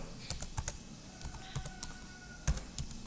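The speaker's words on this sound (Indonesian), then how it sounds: "Seperti biasa, kita ketikkan enable" Commands being typed on a computer keyboard while configuring a Cisco switch, scattered crisp key clicks in short bursts, close and quiet.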